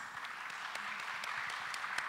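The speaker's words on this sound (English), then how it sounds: "Round of applause, please." Applause from a seated audience at a service-learning symposium plenary session, steady and fairly soft clapping that sounds slightly distant and keeps going through the short moment.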